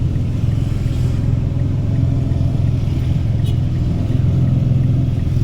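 Motor tricycle engine revving steadily for the whole stretch, a loud continuous low rumble close by, hauling coco lumber along a rural road.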